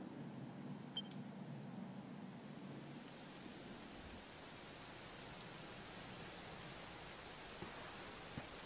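Steady, dense rain hiss in the video game Dragon Quest XI fills the scene, with a low rumble early on and a few faint clicks on top, constant and even throughout.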